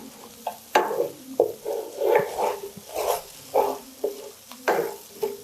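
A homemade cold remedy concoction is stirred in a pot with rhythmic scraping strokes, roughly nine in a row, close and fairly loud, with no voices.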